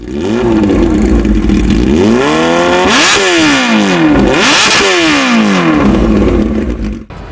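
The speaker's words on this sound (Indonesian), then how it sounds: "Dan ketika terganti menggunakan Austin Racing, suaranya lebih menggelegar asli." A Kawasaki H2 motorcycle fitted with an Austin Racing exhaust revs loudly and close, its engine pitch sweeping up and falling back in several repeated blips over a steady idle.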